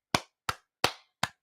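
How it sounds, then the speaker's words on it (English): Four sharp hand claps, evenly spaced and loud, each a crisp slap that decays quickly into silence, with no talking around them. "Hand clap for Hustle."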